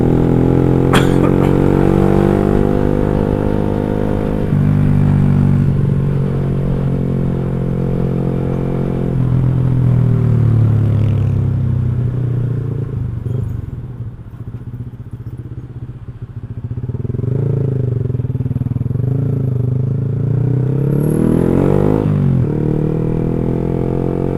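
Motorcycle fitted with an X1speed Pro One full-baffle exhaust idling and revving, a loud, steady close-up engine drone that rises and falls through several throttle blips, dipping briefly mid-way before picking back up, with no talking.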